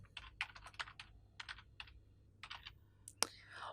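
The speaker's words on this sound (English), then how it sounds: "To add text to the shape, with the shape selected, just start typing." Quick, light keystrokes on a computer keyboard come in short irregular clusters while text goes into a shape in a spreadsheet program, close and quiet, with a louder click near the end and no talk.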